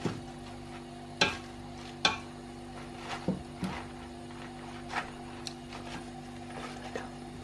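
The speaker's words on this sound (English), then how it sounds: "I'm going to stick you on the heat. We're going to stir this until it is just about wilted." Spinach being stirred in a pan on the heat until just wilted, heard as scattered scraping and clinking strokes at irregular intervals over a faint steady hum, fairly quiet and with no talking.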